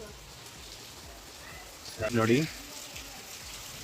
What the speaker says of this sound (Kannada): ಫುಲ್ಲು ಮಳೆ ಅಂದರೆ ಮಳೆ.